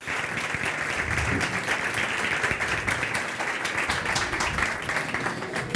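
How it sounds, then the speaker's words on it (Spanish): A studio audience bursts into sustained, dense applause that holds steady for several seconds at a close, loud level, with a few faint voices mixed in. "el señor Aurelio Dávila y el señor Luis Valdión, a quien pido un aplauso de ustedes, por favor."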